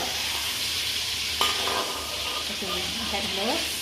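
Prawns frying in oil in a wok for a Malaysian turmeric garlic chilli prawn dish: a steady, moderate sizzle and hiss with brief stirring scrapes, heard close by.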